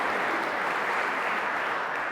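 An audience at a TEDx talk applauds in a steady, even wash of clapping, moderately distant and soft, holding at a constant level with no speech on top.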